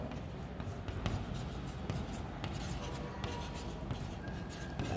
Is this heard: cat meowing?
no